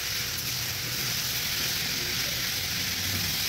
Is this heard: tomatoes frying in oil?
yes